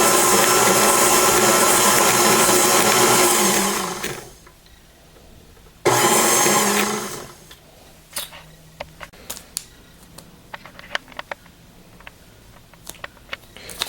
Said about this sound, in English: And then I start mixing. Just mix it for about a minute or so.